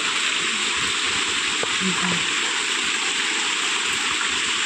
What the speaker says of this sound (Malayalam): ചെറുതായിട്ട് ചാറ്റലുണ്ട് കേട്ടോ